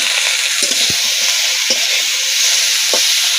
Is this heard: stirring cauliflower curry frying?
yes